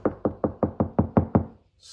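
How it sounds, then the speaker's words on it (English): Eight quick, evenly spaced knocks on a car door panel lined with sound deadener land as dull, solid thuds, close and loud, then stop. "Hear that knock?"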